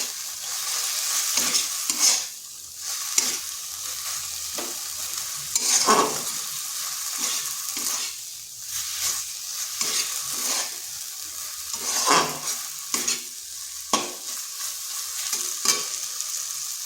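A spoon mixes flattened rice with raw potato, turmeric, coriander powder and chaat masala in a bowl, making repeated scraping, rustling strokes at an uneven rhythm, close and fairly loud, with no talking.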